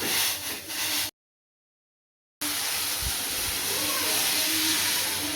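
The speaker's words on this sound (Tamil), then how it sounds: "இப்போ வெந்நீர் நல்லா சூடாயிடுச்சு இதை வந்து சேர்த்துடலாம்" Hot water poured onto ghee-roasted semolina for rava kesari sets off a loud, steady steaming hiss after a brief cut to silence, close and continuous with faint bubbling underneath.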